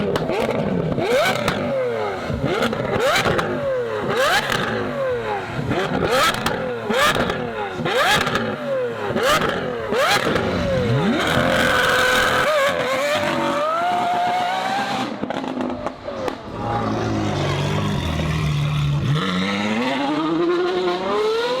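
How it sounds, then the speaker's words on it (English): A supercar fitted with a DTX exhaust revs repeatedly in sharp, loud bursts, then accelerates away with a rising, shifting engine note, close by with crowd chatter underneath. "That's that Deutsch Tech motherfucking DTX exhaust."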